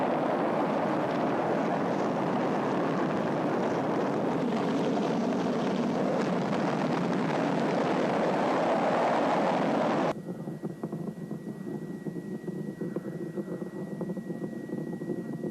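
An archival rocket launch at Cape Canaveral roars as a loud, dense, sustained rumble for about ten seconds, then cuts abruptly to a quieter, thinner layer of noise.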